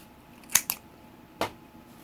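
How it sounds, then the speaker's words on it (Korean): Scissors snipping crochet yarn, two quick close clicks followed a moment later by a single crisp snip, quiet and alone. "그리고 가방을 연결할 때 사용할 수 있을 만큼 실은 넉넉히 잘라주세요."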